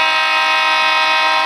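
A train crossing a street, with a loud, steady, sustained horn-like tone held unbroken from start to finish, close and alone.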